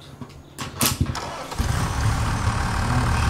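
A tractor engine in the Farming Simulator 25 game cranks with a few sharp bursts, then catches and settles into a steady, loud, close-up rumble with no talking.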